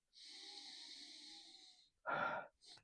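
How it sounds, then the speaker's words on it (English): A long, drawn-in nasal sniff of perfume, breathy and airy for nearly two seconds, followed by a sharper snort-like sniff and a brief final intake, close and fairly quiet. "But if I take another big sniff"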